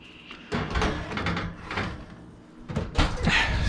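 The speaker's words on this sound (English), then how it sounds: "And then we're basically gonna pop this in the oven." A home oven door swings shut after a pizza goes in, a few soft knocks and clunks of the door and rack, fairly quiet and close in a kitchen.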